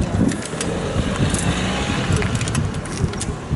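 A car engine rumbles low and steady while the vehicle maneuvers, heard close amid a broad, rough wash of noise with faint rattling clicks, and no clear talk.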